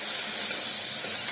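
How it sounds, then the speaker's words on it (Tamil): Onions with ginger garlic paste frying in a pan for a chicken roast give a steady, close, bright sizzling hiss that runs unbroken throughout, with no talking. "வறுத்துட்டு இருக்கிற வெங்காயத்தில் ஒரு ஸ்பூன் அளவுக்கு இஞ்சி பூண்டு பேஸ்ட் போட்டுக்கிறேன்."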